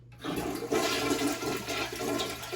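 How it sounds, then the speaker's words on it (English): Mansfield toilet flushing just after a Fluidmaster universal fill and flush kit was installed: a close, steady rush of water that swells and churns for over two seconds, with no talking. "you can lift up the toilet seat and then flush away"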